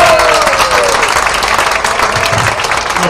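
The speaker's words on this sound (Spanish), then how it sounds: "Un aplauso fuerte" An audience applauds at the close of an evening session with a breathing-exercises instructor, steady loud clapping filling the whole stretch, with some crowd murmur and a faint voice underneath.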